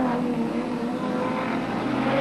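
A 1990 Audi Quattro race car roars through the streets of Queenstown at speed, its engine a loud, sustained drone close by with a steady tone and no talk over it.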